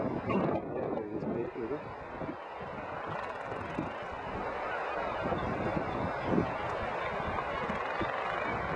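A large male wandering albatross at a nesting colony gives a courtship display, with honking calls over strong, gusty wind noise.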